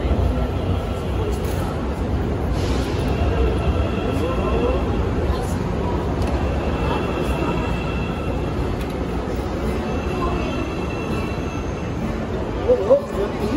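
São Paulo metro train running with a steady, loud rumble of wheels and car noise throughout, a faint squeal now and then, and a couple of brief knocks near the end; no clear talk over it.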